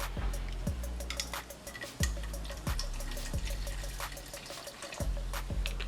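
Seltzer water pours and splashes nearby with a bubbling, fizzy trickle, broken by a few sharp knocks and clinks along the way.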